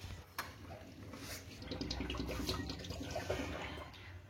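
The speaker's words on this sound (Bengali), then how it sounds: "অ্যাকোরিয়ামে আমাদের এখন জল দেওয়া আরম্ভ হয়ে গেল। এটা এখন জল ফিল আপ হচ্ছে।" Water running from a pipe into an aquarium, a steady rushing and splashing flow that holds at a moderate, fairly quiet level with no one talking.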